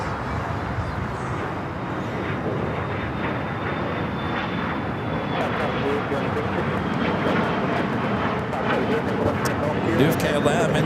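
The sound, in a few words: American Airlines Boeing 777 taking off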